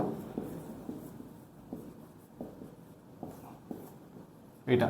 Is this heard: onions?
no